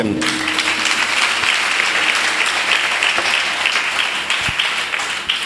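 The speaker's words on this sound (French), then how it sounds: "Acclamation." A congregation at a church convention bursts into loud, sustained applause and cheering, a dense, continuous wash of clapping filling the whole stretch.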